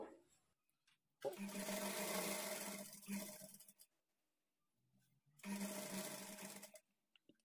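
A sewing machine stitches a high-neck blouse in two loud, sustained runs of rapid whirring, with a short quiet pause between them.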